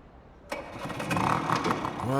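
A car engine with a modified exhaust in the video game The Flower Collectors starts abruptly and builds into a loud, rough roar, with voices speaking over it.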